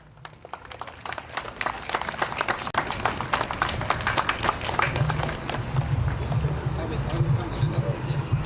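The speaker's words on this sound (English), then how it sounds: "a big applause" Festival crowd applauding outdoors, a broad sustained roar of many hands clapping that swells and holds for several seconds, with faint voices and a low hum mixed underneath.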